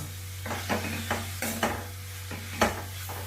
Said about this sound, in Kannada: ಇಷ್ಟೇ ಅದರ ಸಾಕು ಇಲ್ಲಿ ಅನ್ನ ಮಿಕ್ಸ್ ಮಾಡ್ಕೊಳ್ಳೋಣ ಈಗ